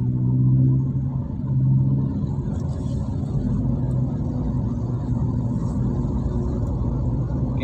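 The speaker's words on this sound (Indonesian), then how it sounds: "hampir sepanjang hari di Jalan Tuanku Tambusai ini selalu padat kendaraan" Dense road traffic rumbles steadily along Jalan Tuanku Tambusai in Pekanbaru, a continuous loud low drone of passing cars and engines with no pauses.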